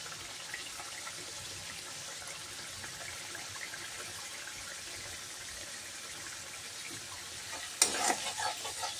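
Paneer curry masala is sautéed in a pan after turmeric powder goes in, a soft continuous sizzle and stirring close by, ending in a brief louder clatter near the end.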